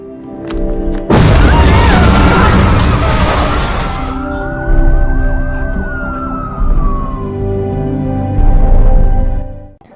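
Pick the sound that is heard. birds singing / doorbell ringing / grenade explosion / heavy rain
grenade explosion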